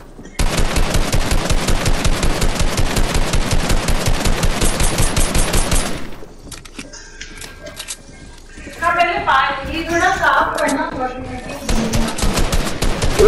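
Rapid automatic gunfire in a Fortnite-style box fight clatters loudly for several seconds, then breaks off while a voice talks, and a second burst of shots comes near the end.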